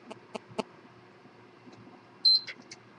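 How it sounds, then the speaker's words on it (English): A handheld controller beeps while entering recovery mode: a few soft clicks, then a short bright beep followed by fainter tones in a quiet room. "it's going to go beep, and then it's going to beep twice"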